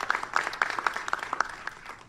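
An audience claps after a line in a speech, with a steady, moderately loud patter of many hands that holds for a couple of seconds with no voices over it.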